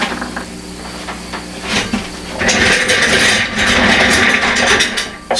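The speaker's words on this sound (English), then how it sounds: "Sorry about the noise of my stool there." A wooden-sounding stool creaks and grinds under a seated person, with irregular mechanical scraping that swells louder and rougher in the second half, up close and with no talk.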